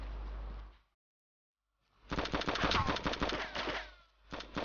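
Gunfire in the DayZ Standalone video game, with a rapid burst of sharp, close shots after a short silence, then a further quick shot or two near the end.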